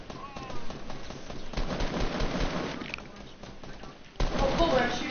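Gunfire in a Fortnite squad match, bursts of shots popping through a busy, dense mix, with a louder burst near the end and talk partly layered underneath.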